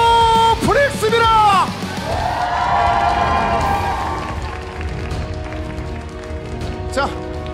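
A crowd at an esports team final cheers and claps, with loud yells and whoops over a broad wash of applause that slowly fades, while an announcer's voice rises over the noise.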